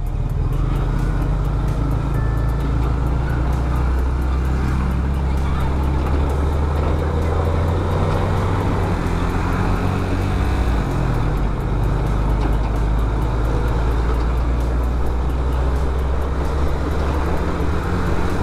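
Loud, steady engine drone and road rumble of a truck labouring uphill amid traffic on the Sukabumi–Cianjur inter-district road in West Java, continuous and close throughout.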